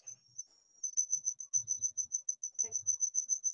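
Steady, rapid cricket chirping repeats in a high, continuous pulse, with faint low murmurs and a brief clatter underneath.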